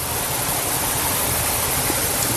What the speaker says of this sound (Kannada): ನೀರು ಸೌಂಡ್ ಮಾತ್ರ ಸಿಕ್ಕಾಪಟ್ಟೆ ಬೀಳ್ತಿದೆ